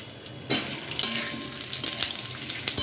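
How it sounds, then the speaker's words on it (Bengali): Potatoes go into hot oil over a cumin seed tempering and start frying with a loud, steady sizzle. Occasional utensil scrapes and knocks stir through it, and no one talks. "ফোড়নটা আমি দিয়ে দিলাম, দিয়ে একটু নাড়াচাড়া করেই আলুগুলো আমি ছেড়ে দিচ্ছি।"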